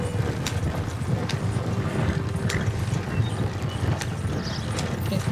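A team of four horses pulls a wagon in Red Dead Redemption 2, steady clip-clop hoofbeats with rattling wagon mechanics, close and continuous, with faint high squeaks above.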